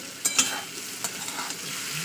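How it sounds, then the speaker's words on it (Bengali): Potatoes fry in oil with a steady sizzle while a spatula scrapes and taps the pan a few times, close and moderately loud, without any speech. "দেখতে পাচ্ছেন আমার কিন্তু আলু ভাজা প্রায় হয়ে এসছে"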